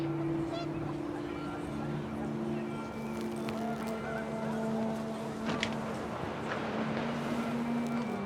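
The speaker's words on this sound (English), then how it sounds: "The wind picked up, and panicked geese appeared and quickly went." Panicked geese honk in What Remains of Edith Finch, their sustained nasal calls overlapping at a moderate distance as wind blows, with a person talking over them.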